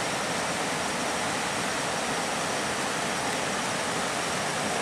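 A river flowing beneath a footpath leading to an old house gives off a dense, unbroken rushing roar, loud and constant throughout with no voices.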